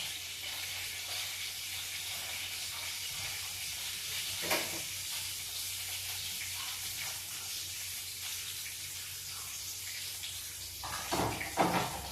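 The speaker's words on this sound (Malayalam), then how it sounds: "കടുക് പൊട്ടാൻ നോക്കുന്നുണ്ട്." Mustard seeds tempering in hot oil alongside dried red chillies, a steady soft sizzle with scattered sharp pops, one louder crackle near the middle and a busier burst of popping toward the end, close and with no talk.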